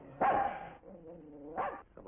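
A dog barks twice at night, a loud burst near the start and another later, with a voice talking quietly in between.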